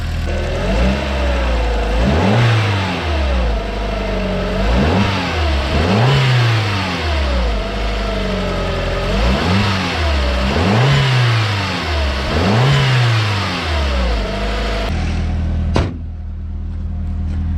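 A 1.8-litre turbocharged VW Mk3 engine revs up and down repeatedly in steady cycles, loud and close, then cuts off near the end.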